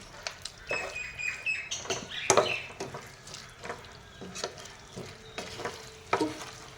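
Chicken curry with spices being stirred and fried in a pan, with a spoon scraping and clattering in irregular bursts over a soft background sizzle.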